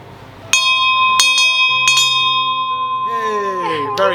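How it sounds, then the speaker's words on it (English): A bell rings in repeated bright strikes, about four sharp hits with long sustained metallic tones, rung at a restaurant to signal satisfaction with the food and service; faint background murmur underneath. "if you're happy with the food and the service, you ring the bell."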